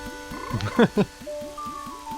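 A frog in the game Majora's Mask, croaking in a couple of quick, loud bursts near the middle, set against a regular chirping rhythm and soft tonal background music.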